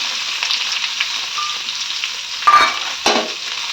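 Steady, close sizzling of onion tempering in hot oil in a pan, with a couple of brief clinks of a utensil against the pan near the end.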